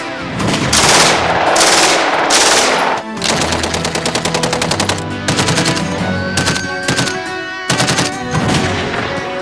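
Machine gun firing in rapid sustained bursts, loud and close, with a few short pauses between strings of shots and no talking.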